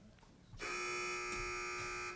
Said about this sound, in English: wait for the buzzer if you'd like to answer